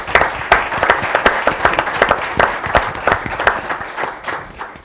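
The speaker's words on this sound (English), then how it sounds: "if you'll join me in giving our panelists a round of applause" Audience applause for a panel discussion on mental health in the Black community, a steady patter of many hands clapping with distinct sharp claps standing out, fairly close and continuous with no talking over it.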